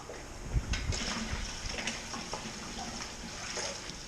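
Apple juice pours steadily into a pumpkin beer brew kettle, a continuous splashing gush of liquid lasting a few seconds, fairly quiet and close.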